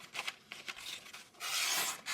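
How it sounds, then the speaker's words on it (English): A CJRB Mica pocket knife slices through a sheet of notebook paper, giving a few short scratchy tearing strokes followed by one longer, louder rasping cut and a final quick swipe, close up with no talking. "Gonna go through that paper like nobody's business."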